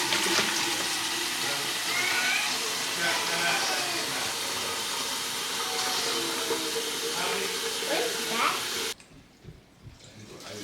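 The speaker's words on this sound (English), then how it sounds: "I'm just gonna water my tomatoes inside." Tap water runs steadily indoors to water tomato plants, a continuous broadband rush that stops abruptly near the end and leaves a quiet room.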